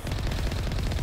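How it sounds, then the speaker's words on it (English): Geth heavy turret firing in Mass Effect 1, a rapid, steady stream of heavy automatic shots with deep, booming low end, loud and continuous for about a second. "Geth heavy turret."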